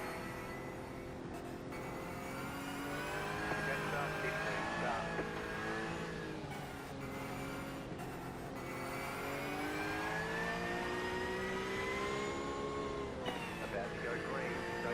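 Steady, high whining engine drone from a Porsche race car in a sim racing game set up for the Bathurst 12 Hour, holding a sustained tone that rises and falls with revs and shifts, moderately loud.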